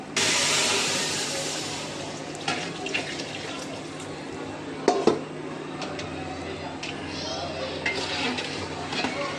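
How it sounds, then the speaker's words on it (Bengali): Hot water pours into a pot of fried rice for biryani, a steady rushing splash with a few metallic clinks against the pot, close and with no talk. "গরম পানিটা দিয়ে দেবো এটার ভিতরে"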